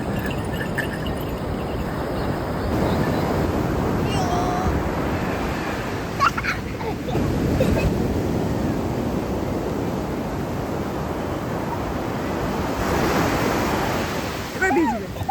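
Sea waves wash steadily onto a beach at sunrise, a loud continuous roar of surf with swelling surges and no pauses, filling the whole stretch.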